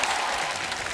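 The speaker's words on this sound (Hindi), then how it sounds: "जोरदार तालियां मिस्टर हिमेश रेशमिया साहब के लिए" Dense studio-audience applause on The Kapil Sharma Show greeting Himesh Reshammiya, a steady loud wash of many hands clapping with no break.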